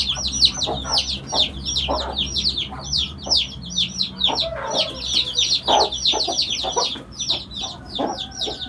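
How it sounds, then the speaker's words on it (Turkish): A feather-footed hen clucks repeatedly at close range, with steady bursts of clucking and other chicken calls running throughout on a farm. "bu tavuğumu çok seviyorum bu paçalıyı"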